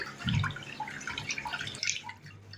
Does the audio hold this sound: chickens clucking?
no